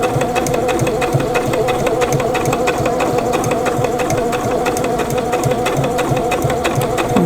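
A sewing machine stitches around a fabric pencil case with a rapid, steady mechanical whir and regular needle clatter, close and constant for the whole stretch.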